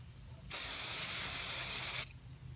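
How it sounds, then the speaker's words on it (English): An aerosol cleaner sprays onto a removed car part during a repair for loss of acceleration: a single sustained, loud hiss lasting about a second and a half, close to the can, with quiet before and after. "spray a liberal amount on that cleaner"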